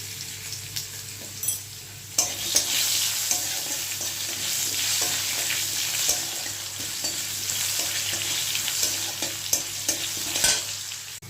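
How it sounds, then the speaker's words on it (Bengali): Salted potato pieces fry in hot oil in a pan, a dense steady sizzle with repeated scraping and clinking of a spatula stirring, close and fairly loud with no talking. "আলুটা সামান্য নুন অ্যাড করে আলুটাকে আমি ভেজে নেব"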